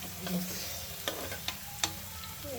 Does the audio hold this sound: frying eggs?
yes